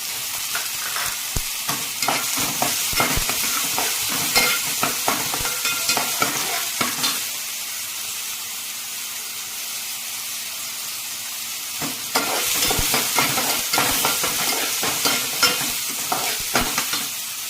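Onion and ginger-garlic paste sizzle steadily in a hot pan for soybean masala, with repeated scraping strokes of a spoon stirring through the frying, pausing briefly in the middle before the vigorous stirring resumes.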